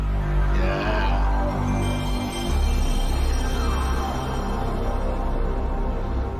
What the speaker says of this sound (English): Nicely loud PlayStation noises.